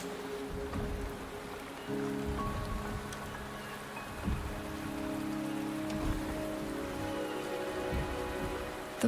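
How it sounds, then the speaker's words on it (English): Steady rain falls in a video game set on Jinsi, a dense continuous patter of drops on surfaces that carries on evenly throughout, with a faint low tonal hum underneath and no voices. "The rain is subsiding,"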